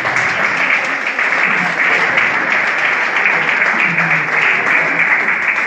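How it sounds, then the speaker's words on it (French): An audience applauds after a performance at a worship gathering in Metz, producing loud, continuous, dense clapping that stays even throughout, with faint voices mixed underneath. "Nous applaudissons encore pour lui, s'il vous plaît."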